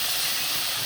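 Water poured into a hot pan of browning rabbit pieces bursts into a loud, steady steam hiss that fills the whole moment without pause, close and harsh, with no voices over it.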